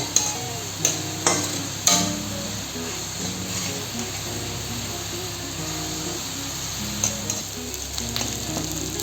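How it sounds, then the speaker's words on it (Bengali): Onion paste and four whole green chillies frying in a pan, a steady close sizzle with a few sharp taps of a spoon or spatula against the pan near the start and again later. "তার মধ্যে এখন দিয়ে দিলাম আরও 4টা আস্ত কাঁচা লঙ্কা। ওইগুলোকে খুব ভালো করে ভেজে নিতে হবে।"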